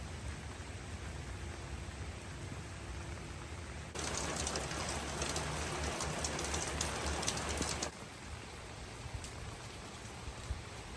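Steady rain falls outdoors in the Pacific Northwest, a constant soft hiss that swells noticeably louder for several seconds in the middle before easing back. No one speaks.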